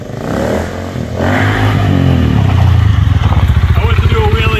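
A motorcycle engine revs up hard and close during a wheelie attempt, a loud, steady throaty drone with a rapid pulsing beat that builds and holds near its peak, with voices mixed in early.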